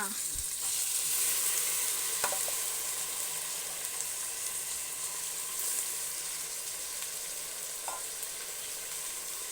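Sprouted horse gram tipped into potatoes frying in oil in a pan, giving a steady, dense sizzle throughout with a couple of faint stirring knocks and no talking.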